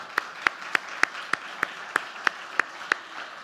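Sparse, evenly spaced hand claps ring out at a gathering where someone is being thanked, crisp single claps over a low background hum, without speech.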